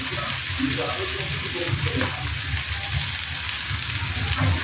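Mixed vegetables frying in a roasted gravy in a pan give a continuous, even sizzle, close and moderately loud, with faint low sounds beneath it.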